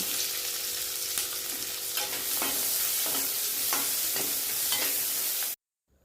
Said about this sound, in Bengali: ফোড়ন ভাজা হয়ে গেলে এর মধ্যে দিয়ে দিচ্ছি পেঁয়াজ কুচি।